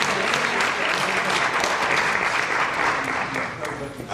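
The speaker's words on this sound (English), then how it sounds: "can we give them a round of applause for organizing this?" Sustained audience applause at a mental health fair keynote, organizers being thanked; dense, steady clapping from a crowd that stays loud throughout and eases slightly near the end.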